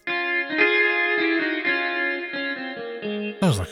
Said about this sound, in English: Sounds like a regular guitar.